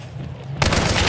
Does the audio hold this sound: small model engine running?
no